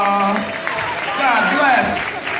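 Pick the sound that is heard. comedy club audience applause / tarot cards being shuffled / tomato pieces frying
comedy club audience applause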